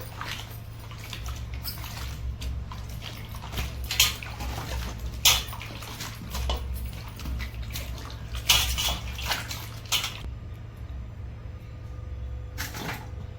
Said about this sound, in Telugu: వాటర్లో ములక్కాయ ముక్కలు వేసి నీట్గా కడిగేసుకుందాం